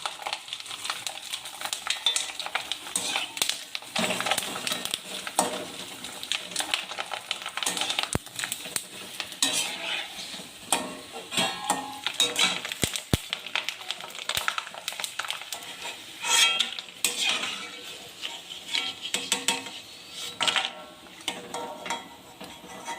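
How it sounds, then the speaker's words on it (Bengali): Sun-dried potato chips frying in hot oil in a wok, giving a dense, continuous crackling sizzle with busy bubbling pops that rise and fall throughout, close and fairly loud, with no voices. "এইভাবে চিপসগুলো ভেজে নিচ্ছি।"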